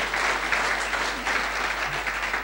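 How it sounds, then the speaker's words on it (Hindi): Steady applause from a seminar audience fills the moment, continuous clapping at a moderate distance with no voices over it. "जोरदार तालियां होनी चाहिए"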